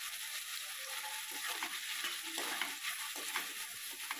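Prawns fry in a pan with salt as they are stirred, a steady bright sizzle with intermittent scraping and clinking from the spoon against the pan, close and continuous.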